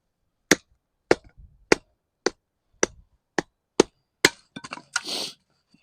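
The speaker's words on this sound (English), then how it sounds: "Got our plastic and rubber hammer there." Sharp, hard knocks land at a steady pace, about eight strikes in a row, each a crisp wooden crack followed by brief rattles and a scraping rustle, as a rubber hammer batons a fixed-blade knife through wood.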